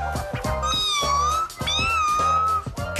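At a dinner-party drinking game, a person imitates a cat with two drawn-out vocal meows in quick succession, loud and close, with a busy room murmuring underneath.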